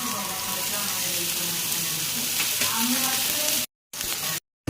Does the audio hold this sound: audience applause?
no